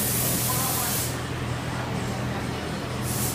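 A fuel injector sprays on a flow test bench at 1600 RPM during injector cleaning, giving a steady loud hiss that softens briefly midway and then swells again, with no talk over it.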